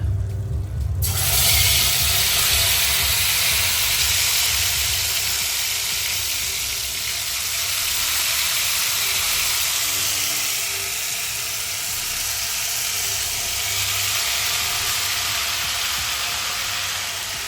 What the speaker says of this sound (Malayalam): നമ്മുടെ എണ്ണ നല്ലോണം ചൂടായി വന്നിട്ട് നമുക്കിനി ഓരോ പീസാക്കി എടുത്തിട്ട് നമുക്ക് ഫ്രൈ ചെയ്തെടുക്കാം.